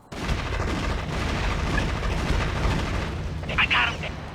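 Battle gunfire from the Army Men RTS video game, a dense, continuous barrage of rapid shots and rumbling blasts that holds loud throughout, with a brief higher-pitched tone near the end.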